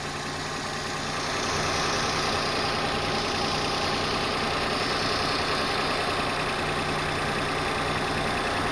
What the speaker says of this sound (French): au niveau du bruit, on a vraiment l'impression que c'est une Subaru